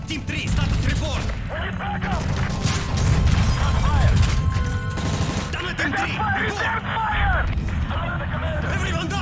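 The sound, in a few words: gunfire in a video game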